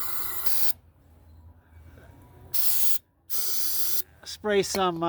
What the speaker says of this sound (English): I'm going to spray some carburetor cleaner in the intake right here